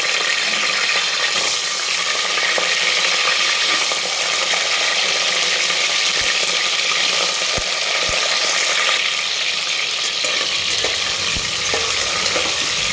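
Large chunks of potato fry in oil for a dhaba-style egg biryani, a loud, close, continuous sizzle with occasional clinks and scrapes of stirring throughout.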